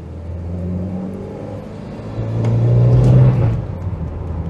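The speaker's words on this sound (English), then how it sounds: "Yeah, it's a nice lusty engine." A Renault Espace's engine, the same unit as in the Renault 21 Monaco, revs up while driving, a steady rumbling drone that swells louder for about a second before easing back.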